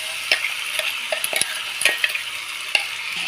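Boiled chickpeas being stirred into cooked onions in a pan, with a steady soft sizzle of frying under repeated scraping and clinking strokes of the spoon, close and alone without voices.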